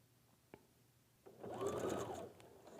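A sewing machine stitching a diagonal strip quilt block: after a couple of faint clicks, a steady, fairly quiet whirring run of stitching starts up and continues to the end.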